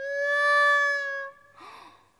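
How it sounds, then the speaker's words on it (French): A cat gives one clear, drawn-out tonal meow lasting about a second, followed by a shorter, breathier sigh-like sound, both close and fairly soft in an otherwise quiet room. "il a une façon bizarre de miauler"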